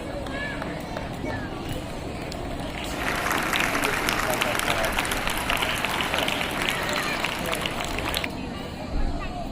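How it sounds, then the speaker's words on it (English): An audience at a school Independence Day celebration applauds to welcome the chief guest, a swelling burst of crowd clapping lasting several seconds amid murmuring voices before fading. "Let's welcome Reverend Father Ashit Topo with a big round of applause."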